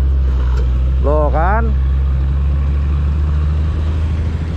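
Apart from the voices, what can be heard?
truck driving past on road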